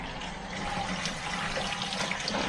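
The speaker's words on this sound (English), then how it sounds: "pour in the water and the white vinegar in" Water and white vinegar pour into a Thetford toilet cassette, a steady close hiss and gurgle of liquid filling a plastic tank without pause.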